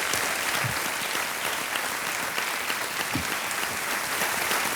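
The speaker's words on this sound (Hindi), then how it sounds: "तालियां बजती रहें इनके लिए।" Studio audience of the Kaun Banega Crorepati quiz show applauding as a contestant takes the hot seat, a continuous, even roar of many hands clapping with no talk over it.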